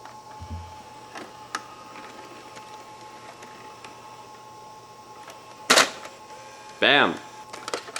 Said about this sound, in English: while we've got power, let's eject the tape, see what that looks like